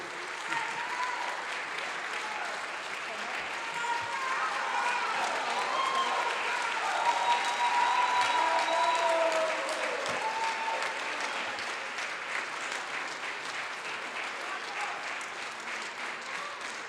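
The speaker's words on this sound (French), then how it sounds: "merci de vos applaudissements" A concert audience at a Christmas piano recital gives sustained applause, a dense, even wash of clapping from a full hall that swells slightly midway, then eases but continues.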